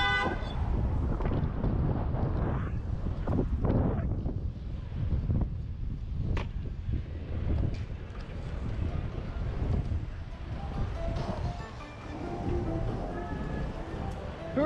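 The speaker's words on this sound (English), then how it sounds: "Why did you honk at me?" A car horn honks from a vehicle on the road, caught on a dash cam amid steady wind and traffic rumble, with brief tonal toots standing out over the noise.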